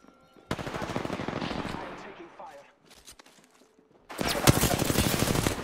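Automatic gunfire in Apex Legends, a loud, rapid burst of shots that tails off into a short lull with scattered quieter sounds, then another dense, close burst of firing.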